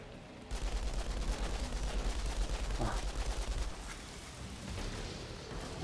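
Steady automatic gunfire in the video game Outriders runs as a dense, continuous rattle for several seconds, then breaks off into a quieter background.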